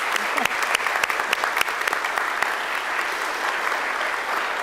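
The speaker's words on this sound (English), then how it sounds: "Let's give all of our inductees a regular round of applause." An audience at an awards induction ceremony applauds steadily, a dense wash of clapping hands throughout with no voices on top.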